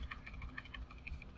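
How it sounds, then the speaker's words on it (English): Soft, quick clicks of arrow keys being pressed on a computer keyboard, a rapid irregular patter of light taps, close and quiet with no talking. "I'm just gonna use my arrow keys"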